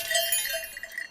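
A bell on a house door in a film rings out with a bright, sustained metallic tone that lingers and slowly fades over about a second.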